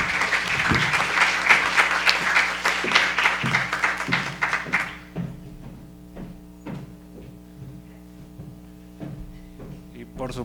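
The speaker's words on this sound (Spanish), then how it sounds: "Ahora les pido su aplauso para la doctora Diana Marrón Luna." Audience applause at a university event on community care, a dense wash of clapping that fades out about halfway through, leaving sparse individual claps and a faint steady hum behind.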